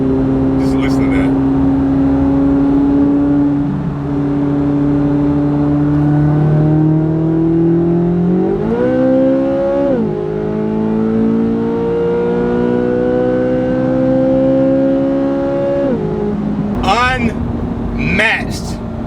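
A Chevrolet Corvette C8 Z06 with its 670-horsepower, 8,600 rpm engine revs loud and close, its tone holding steady, climbing in stepped surges and then dropping off, with a brief burst of rasp near the end.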